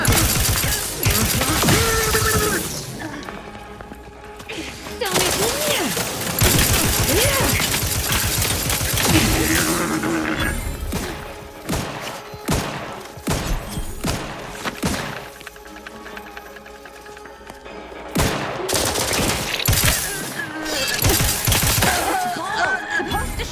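A shootout in The Outer Worlds 2 video game brings bursts of gunfire with sharp cracks and heavy thuds in clustered volleys, while voices talk intermittently over the game's noise.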